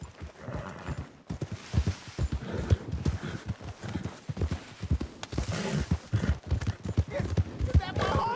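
Horse hooves clip-clop in Red Dead Redemption 2, a steady rhythmic trot of close, distinct hoofbeats with a brief whinny, under speech.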